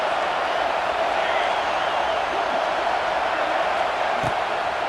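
Stadium crowd noise in the College Football 26 video game as fans rally behind the defense on a big third down: a steady, broad roar of cheering that holds at an even level throughout, with a faint thump near the end.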